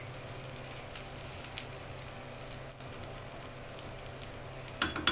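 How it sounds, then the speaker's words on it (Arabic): Rice being stirred in melted ghee over the fire crackles with a soft, steady sizzle and occasional scraping stirs, fairly faint, with a short louder shuffle near the end. "السمنه ساحت وقلبت فيها كده الرز لحد ما ايه اخد درجه الحراره"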